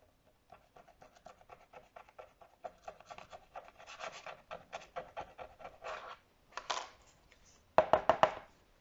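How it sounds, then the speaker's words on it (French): Paint being scratched off a homemade scratch card, a faint, close series of dry rasping scrapes in quick strokes that grow denser and louder, ending in a short burst of harder scratching. "j'ai collé la peinture dessus, et là maintenant nous allons gratter."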